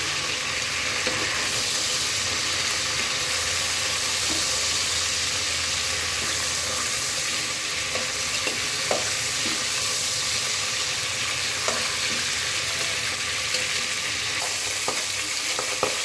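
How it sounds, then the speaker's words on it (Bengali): Steady, loud sizzling of a rohu fish head frying in hot oil continues throughout, with occasional light pops and crackles. "মাথাটাকে প্রথমে ফ্রাই করে নেবে"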